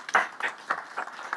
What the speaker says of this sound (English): and applause to all